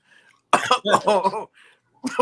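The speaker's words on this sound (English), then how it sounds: "Sorry for coughing." Several harsh coughs in quick bursts, loud and close, with brief pauses between them.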